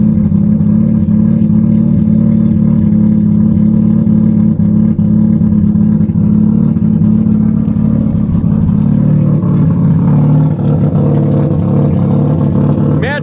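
A Mazda RX7 rotary engine holds a loud, steady high-rev drone through a burnout, thick and continuous, with a pitch flare near the end; voices murmur faintly under the noise.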